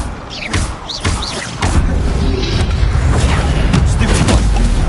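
Fire spell being cast in a magic-duelling video game, a sudden whooshing burst that swells into a loud, sustained roaring rumble, preceded by a few sharp thuds and swishing flourishes.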